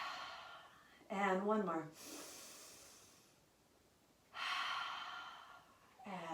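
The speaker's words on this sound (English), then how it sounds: "taking 3 full deep breaths right here" Long, deep breaths with audible, breathy exhales come from someone holding a Pilates stretch. The slow breaths are spaced seconds apart and heard close up, with a brief spoken cue from the instructor between them.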